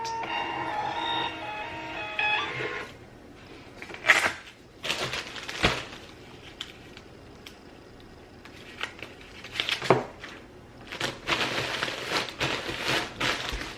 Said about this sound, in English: Change the printer back to the Dymo and print.